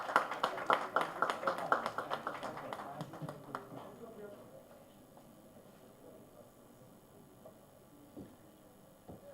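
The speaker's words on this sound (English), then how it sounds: "A huge round of applause for this very, very talented personality." Audience applause rings out at a panel discussion on the processed food industry, a burst of claps that fades away after a few seconds into quiet room tone, with a voice faintly present.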